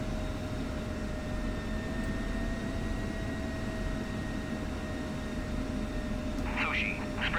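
Jet aircraft engine in DCS World rolling down runway 24 for takeoff, a steady loud broadband roar with a constant whine throughout, with a brief radio chirp near the end.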